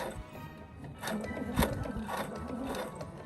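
Sewing machine stitching fabric for a Christmas pillow at a medium stitch length, a close, steady mechanical whirr with rapid needle rhythm running throughout.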